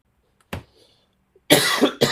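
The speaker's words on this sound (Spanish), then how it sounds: "Perdón por la tos" A man coughs nearby during a class on reprogramming a Marelli 6LP car ECU: one short cough, a pause, then a longer harsh coughing fit with a final hack, loud against near silence.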